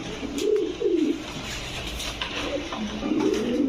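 Lal Dum pigeons at a pigeon farm coo in low, throaty, repeated rolls, several overlapping calls close by against a steady background murmur of the farm.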